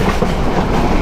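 Meghna Express intercity train from Chandpur heading toward Feni Junction, a brief burst of loud, dense on-board rumble with rhythmic wheel clatter and carriage rattle, no speech.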